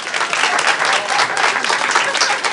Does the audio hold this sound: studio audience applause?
yes